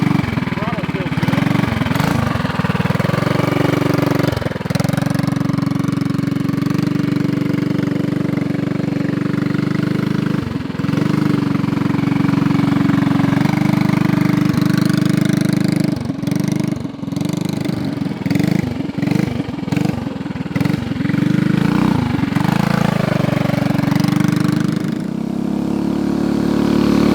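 A Mega Moto full-suspension budget mini bike's small engine runs steadily at close range, holding a constant droning tone with brief dips and throttle changes, while people talk now and then over it.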